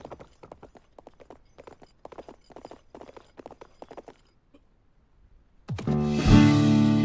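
Horse hooves clip-clopping in the Western survival video game Cowboy Life Simulator: a run of light, fairly regular hoof taps, then a pause, then a sudden loud burst of a different harsh game noise.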